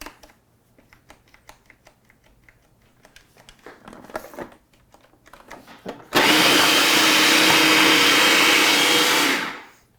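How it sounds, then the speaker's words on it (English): A food processor pulses habanero chilies with their seeds, garlic, chopped onion and tomatoes into a paste, starting after a few light clicks and knocks with one loud, steady whir lasting about three seconds before cutting off. "I'm gonna pulse this up until I get a nice paste"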